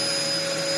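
Dyson DC04 vacuum cleaner running with suction, a steady close whine that holds evenly throughout the short stretch with no talk over it.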